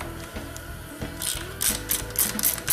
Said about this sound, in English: I'm just going to take off this one to the left. It is an 8mm bolt.